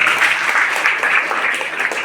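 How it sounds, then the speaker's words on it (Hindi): An audience claps at a children's poetry competition held at a Bihar children's centre, a brisk, steady round of applause from a sizable crowd, loud and close throughout. "जोरदार तालियां हो जाए।"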